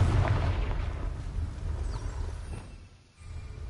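Confringo, a fiery blast spell cast in Hogwarts Legacy, gives a low booming rumble that rolls and fades over a few seconds, fairly loud, then drops briefly into near quiet before the game ambience returns.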